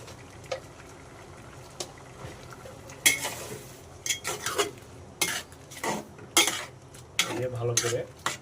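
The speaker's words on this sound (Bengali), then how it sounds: "ভালো করে নেড়ে ঢেকে দিবেন এইভাবে" Bottle gourd and egg curry stirred in a pan brings sharp spoon clinks and scrapes against metal, sparse at first and then bunched into quick bursts over a faint sizzle.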